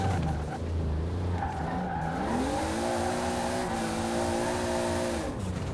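A tuned MK3/A70 Toyota Supra drifting in Forza Horizon gives a sustained, loud tire squeal over a high-revving engine, the pitch climbing and holding steady through the slide.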